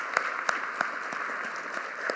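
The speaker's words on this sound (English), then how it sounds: "Give them a big round of applause." An audience at a school district State of Schools event applauds with steady, even clapping and a few sharper claps standing out, moderately close and without voices over it.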